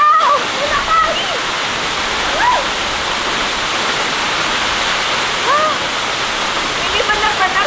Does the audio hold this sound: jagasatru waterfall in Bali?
yes